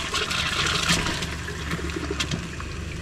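Liquid rushes and trickles through the plumbing of an R-pod 172 travel trailer after a valve is opened, a steady close wash of flowing water with no talking.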